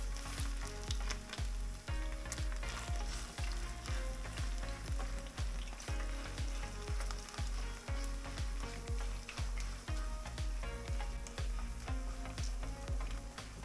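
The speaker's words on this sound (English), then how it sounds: "add a bit of the pancake batter to check if the oil sizzles enough" Grated potato pancake batter hitting hot oil in a pan for a Hungarian potato pancake, a dense, continuous sizzle and crackle with sharp pops and spatters throughout, close and fairly loud with no talking.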